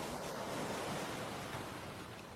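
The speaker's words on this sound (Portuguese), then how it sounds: "As ondas são suaves e a praia é protegida do siroco" Gentle waves washing onto a sheltered beach in Crete, a steady broadband surf hiss with a little wind noise on the microphone, continuous and fairly soft with no voices.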